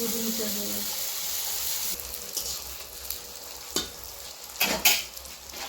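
Jackfruit-leaf papad frying in hot oil gives a steady, close sizzle for the first two seconds, then quieter crackle broken by several sharp splashes and stirring bursts.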